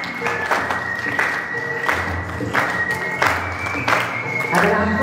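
Audience applause at a welcome-song gathering, a steady wash of clapping running through the whole stretch with music and voices mixed in beneath it.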